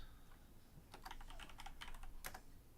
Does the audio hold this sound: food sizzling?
no